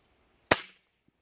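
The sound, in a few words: unsuppressed HW100T air rifle shot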